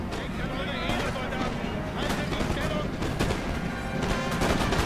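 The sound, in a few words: musket gunfire in the video game Napoleon: Total War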